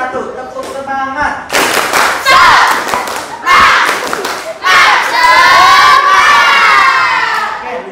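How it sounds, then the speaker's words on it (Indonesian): Schoolchildren at a junior high school in Gegesik do a rhythmic 'tepuk semangat' clap chant, loud group shouting and cheering punctuated by sharp bursts of synchronized clapping and thuds, near and energetic. "Sekali lagi, 3, 2, 1, tepuk semangat."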